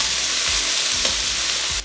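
Bean sprouts stir-fry for chicken chow mein in a hot pan, a loud continuous sizzle broken by scraping stirring strokes, close up with no talking.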